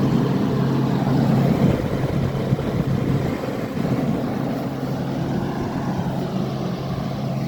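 An Amana 9,000 BTU PTAC heat pump compressor runs in heat mode, a steady low hum beneath broadband airflow rush, continuous and moderately loud throughout with no voices.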